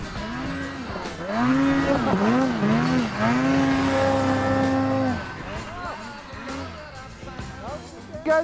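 A modified 250-horsepower snowmobile engine revs in repeated rising and falling swells, loud and close, then eases off toward the end, with some talk around it.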